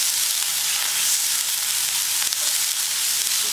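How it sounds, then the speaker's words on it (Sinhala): Onion, ginger and garlic frying in hot oil, a steady close hiss and sizzle with faint stirring, no voices. "දැන් ලුණු ටිකයි ඉඟුරු සුදු ලුණු ටිකයි හොඳට සුවඳ එනකන් තෙල් එකේ මලව ගමු"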